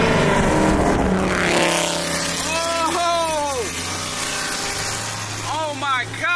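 A Jeep Trackhawk races a Mansory-tuned Lamborghini Urus on the street: engines roar nearby, fading as the cars move off, while excited voices shout over the noise.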